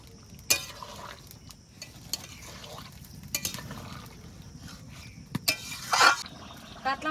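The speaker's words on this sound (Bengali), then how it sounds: "এবার নেড়ে ছেড়ে ভাজা জিরে বাটাটা মিশিয়ে নেব" Stirring fried cumin paste into a pot of thin katla fish curry with potatoes: intermittent soft scrapes and light clinks of a spoon against the pot, with a few sharper clanks over a low steady background.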